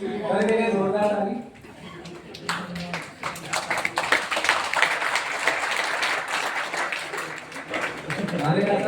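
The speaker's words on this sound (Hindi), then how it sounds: "कर देंगे जोरदार ताली।" An audience bursts into loud, sustained clapping for several seconds, dense and close, after a voice briefly speaks at the start, then it tapers as he resumes.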